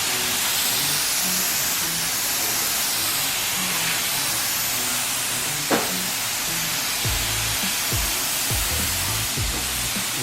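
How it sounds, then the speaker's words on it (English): Spray gun applying primer to a BMW E46 M3 in a steady, loud hiss that runs continuously, with a brief click midway and some low thumps toward the end. "About to start spraying"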